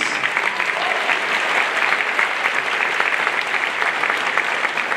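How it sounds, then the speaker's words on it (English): A school holiday concert audience gives steady, dense applause for the middle school choral director, a continuous roomful of clapping hands at even loudness throughout. "we'll give a thank you to Mrs. Baum, middle school choral director. Give a round of applause,"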